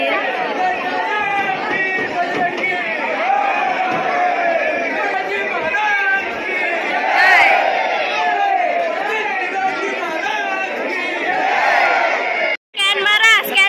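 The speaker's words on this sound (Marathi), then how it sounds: "तर मित्रांनो तुम्ही गर्दी पाहू शकता आणि भक्तांचा आवाज देखील." Dense crowd of devotees shouting and chattering at Ekvira temple, a loud, continuous babble of many voices with rising cries, cutting briefly near the end before resuming.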